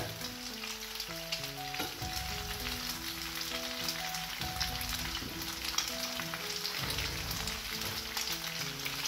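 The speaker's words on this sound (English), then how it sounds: "At the end, we add some cheese. We mix it." Spaghetti with garlic and cheese sizzles and crackles steadily in a hot pan as it is mixed, giving a dense continuous frying hiss with occasional stirring scrapes and a faint background melody.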